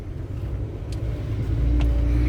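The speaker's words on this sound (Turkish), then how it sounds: "bugün annem araba sürüyor" A car drives along a road, heard from inside as a steady low rumble that swells slightly toward the end, with no voices.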